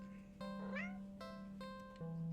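Cartoonish cat meowing in a video game, a few short meows with a soft rising-falling call over a steady electronic music drone, close and clear.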